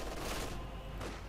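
Bursts of machine gun and rifle fire from German troops in the strategy video game Company of Heroes 2, a dense crackling volley of overlapping shots filling the mix, loud and continuous.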